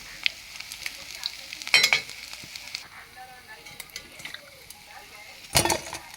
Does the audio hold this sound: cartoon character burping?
no